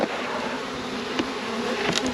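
Honey bees buzz steadily as they are shaken off a hive frame into a container for a mite check, a dense continuous drone close by with a couple of brief louder bursts and no talking.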